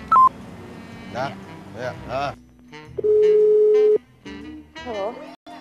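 A telephone is dialed with short keypad tones, followed by a long steady line signal tone and further beeps, while someone speaks briefly in between.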